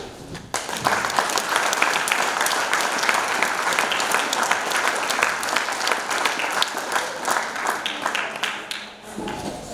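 An audience applauds in a hall, a dense sustained wash of clapping that starts abruptly, holds steady for several seconds and fades near the end, with no voices over it.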